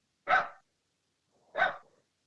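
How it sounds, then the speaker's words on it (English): A dog barks twice, sharp single barks about a second apart, close and fairly loud, with silence around them. "If we stop talking, Conway will stop barking."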